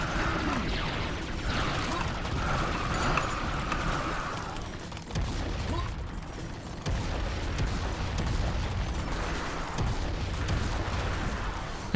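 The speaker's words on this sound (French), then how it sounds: "Merci les canons." Cannons fire in the arena of the video game Serious Sam's Bogus Detour, a dense, continuous barrage of booming blasts and bursts with brief dips in intensity, loud throughout.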